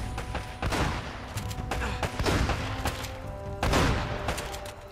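Shotgun blasts in the game Uncharted: Drake's Fortune, several loud booming shots spaced unevenly among other combat noise, with one heavy blast near the end.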